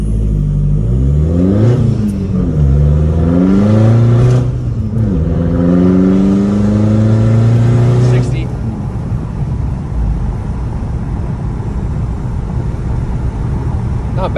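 A 2012 Volkswagen Golf TDI diesel with a downpipe and EGR delete accelerates hard through several gear changes, engine pitch climbing and dropping, loud and close from inside the car, then settles into steady road and engine roar.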